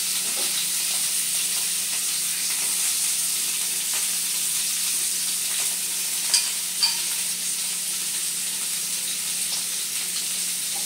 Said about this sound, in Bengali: দেখুন ফুলকপিগুলো হাফ ভাজা হয়ে গেছে।